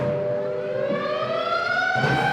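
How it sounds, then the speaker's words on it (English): A loud civil defense siren wails steadily, its tone slowly rising in pitch as it swells, sustained without pause, sounding a war warning. "the Banshee wail of the siren echoes the warning"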